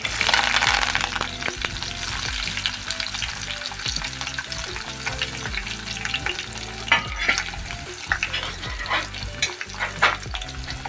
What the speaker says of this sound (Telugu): అవి కొద్దిగా వేగాక ఉల్లిగడ్డ ఒక చిన్నది, 2 పచ్చిమిరపకాయలు, 2 ఎండుమిరపకాయలు, కొద్దిగా కరివేపాకు అన్నీ కలిపి దాంట్లో వేసేస్తాం.